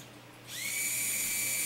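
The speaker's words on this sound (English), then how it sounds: "Now I have happy lights on my servo controller." An Arduino-controlled servo motor starts turning, a thin steady whine that comes in after a brief quiet moment and holds on, close and moderately loud.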